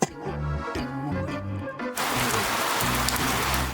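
Heavy rain pours steadily out of an upside-down umbrella, a dense continuous hiss over music, becoming a loud, even downpour midway through.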